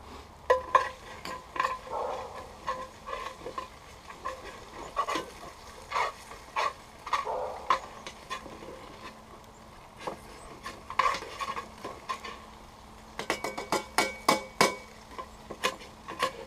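Leftover flour is scraped out of a frying pan on a rocket stove with a utensil, giving irregular scratchy scrapes and clinks at close range, and a brisk cluster of quick taps near the end.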